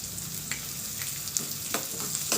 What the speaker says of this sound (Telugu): లైట్గా గోల్డెన్ కలర్ వచ్చే వరకు వేయించండి.